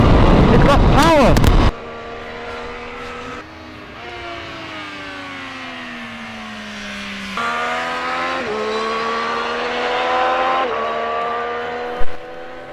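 Triumph Street Triple 765 RS motorcycle riding on a race track, a loud engine wail rising and falling through gear changes, with a strong opening burst, then sustained revs and shifts around 7, 8.5 and 10.5 seconds.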